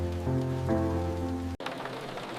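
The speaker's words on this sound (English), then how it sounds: "The rain is tapping on the large glass window." Rain taps on a large glass window as a steady, close patter, with soft tonal music sustained beneath it for the first part.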